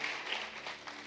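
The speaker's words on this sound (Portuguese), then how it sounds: "Aqueles que creem podem aplaudir ao Senhor" A church congregation applauds during a service, a brief, faint, even wash of clapping from many hands at a distance.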